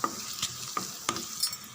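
Onions, green chillies and curry leaves sizzle in hot oil while being sautéed for a tiffin sambar, with a steady frying hiss broken by several sharp spatula scrapes against the pan.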